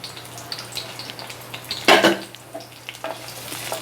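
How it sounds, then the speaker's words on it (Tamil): Square-cut onions sauté lightly in hot oil for an onion yogurt gravy, a steady close sizzle with a spoon stirring and scraping the pan, including one loud scrape partway through. "லைட்டாக வதக்கிக்கோங்க, ரொம்ப போட்டு வதக்க வேண்டாம், ரொம்ப வெந்துடக்கூடாது."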